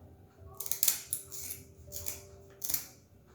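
A hilsa fish's tail is cut with a few sharp, crisp snips and crunches in quick bursts, close and fairly loud against a quiet background.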